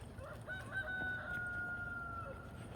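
A single rooster crows once in a long, drawn-out call, sounding somewhat distant and faint against a quiet outdoor background.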